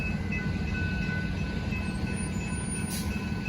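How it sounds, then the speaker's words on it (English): An NSF passenger train bound for Chicago Union Station pulls into a Downers Grove platform, a steady loud low rumble of wheels and cars with faint high whine, no voices. "NSF train number 1228 to Chicago Union Station is now arriving."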